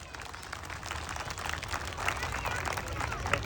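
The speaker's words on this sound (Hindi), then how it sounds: "इसलिए खुद के लिए भी ताली बजाओ एक बार" Crowd applause at a Hindu sammelan gathering, steady dense clapping from many hands filling the space, moderately loud and continuous without a break.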